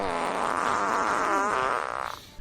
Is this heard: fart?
yes